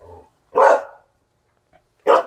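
A dog barks at a house in Jeju near a deck: two loud, close barks separated by a pause, with a faint murmur of voice at the start.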